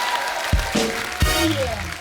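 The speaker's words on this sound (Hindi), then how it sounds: "पहले तो इस बात के लिए जोरदार तालियां हो जाए" Loud studio audience applause on a comedy talk show set, a dense clapping wash with a few sharper accents, and voices faintly mixed in.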